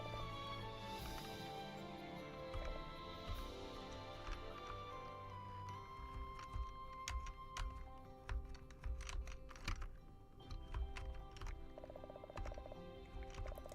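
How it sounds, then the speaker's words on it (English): Loud computer keyboard typing runs steadily through the stretch, dense clicking with bursts of faster keystrokes over a low background of game music. "My keyboard's loud."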